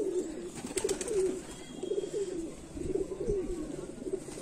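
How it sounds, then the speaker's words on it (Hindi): Sialkoti pigeons coo in repeated soft, rolling phrases at a steady rhythm, fairly near, over a faint background hiss with light fluttering sounds. "ये उड़े हुए हैं कबूतर"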